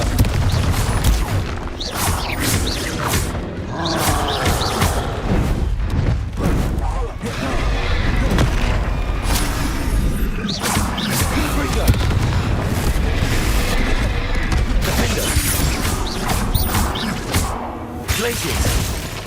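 Repeated booming spell blasts from Confringo casting in Hogwarts Legacy, dense and continuous with rumbling bursts layered over game combat noise and other spell effects.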